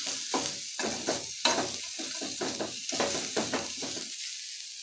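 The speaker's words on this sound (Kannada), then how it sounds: "ನೀಟಾಗಿ ಎಲ್ಲ ಫ್ರೈ ಆಗಲಿ." Greens and lentils frying in a pan for a village-style sambar with honagone greens, giving a steady close sizzle broken by repeated scraping stir strokes in an uneven rhythm, with no voices.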